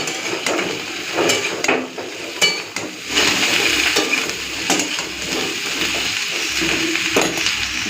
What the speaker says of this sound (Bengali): এখন দিয়ে দিচ্ছি আলু, বেগুন, লাউ ডাঁটা। ওখানে আগে এগুলো একটুখানি হালকা করে ভেজে নেব।